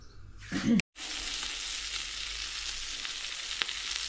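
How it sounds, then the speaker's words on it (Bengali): Chopped onion frying with burger buns in a home kitchen pan, a steady close sizzle that rises after a brief stir and a short silent gap, continuing evenly with small crackles. "অনিয়ন দিয়ে অনিয়নটাকে একটু ফ্রাই করবো বার্গারের বানের সঙ্গে"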